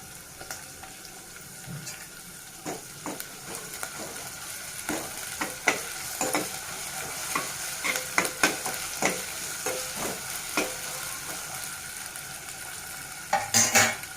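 Curry leaves and ginger garlic paste frying in oil for Andhra-style tomato rasam, a close crackling sizzle broken by repeated sharp clinks and scrapes of a spoon stirring in the pan, with no talking.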